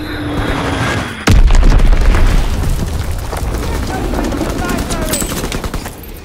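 A bomb explodes in the World War II shooter Call of Duty WW2, a sudden loud boom after about a second, followed by a sustained rumble and rattling gunfire, with battlefield voices underneath.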